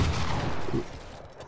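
Shotgun fire in a Fortnite box fight, a loud, dense burst of gunfire and impact noise at close range that cuts off partway through, then a quieter rumbling tail, with no talking.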